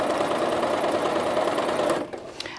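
A domestic sewing machine stay stitching a garment front panel, running in a fast, steady mechanical rattle for about two seconds before stopping abruptly, with a few small clicks afterward.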